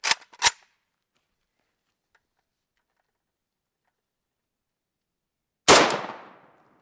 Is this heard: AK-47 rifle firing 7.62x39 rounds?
yes